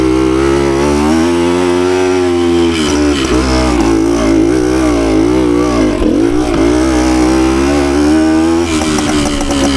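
A 52-year-old Suzuki TS185 two-stroke motorcycle rasps loudly on a trail, its engine revving up and down in buzzing surges, close and continuous without talk.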